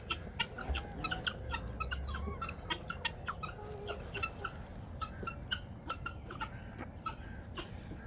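Chickens cluck and chatter close by in a farmyard, a busy run of short, sharp clucks and calls repeating through the whole stretch over a quiet background.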